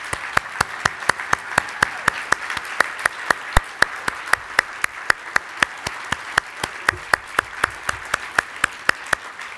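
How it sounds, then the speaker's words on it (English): Gala audience in Ohio gives a round of applause for staff, heard as a steady, even run of sharp claps over roughly ten seconds with a soft crowd wash underneath and no talking. "join them so we can give them a round of applause"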